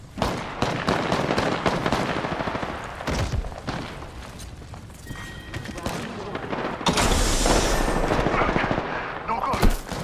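Video game gunfire in rapid bursts and single loud cracks, close and heavy, with a sustained roaring stretch midway and a sharp blast near the end, voices mixed in beneath.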